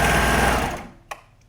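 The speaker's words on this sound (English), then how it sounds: "you may want to sew this with your sewing machine with a zigzag" A sewing machine runs a zigzag stitch along a thick hoodie seam, a loud, steady mechanical whir that stops abruptly partway, followed by a single small click.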